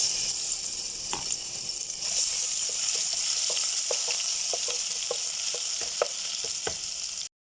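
Garlic and ginger paste sizzles steadily in hot oil in a pan while basmati rice is being cooked, a constant loud frying hiss with scattered sharp pops and crackles and no talking.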